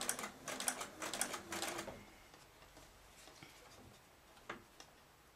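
A sewing machine stitches a curved seam in fabric, a quick rapid run of mechanical ticking that lasts about two seconds and then fades to faint, sparse clicks.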